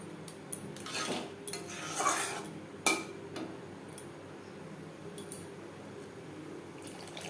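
Water poured into a pan of mustard-paste masala for a Bengali bhetki fish curry, with a few clinks of utensils against the pan and a brief splash of liquid, then quiet kitchen background.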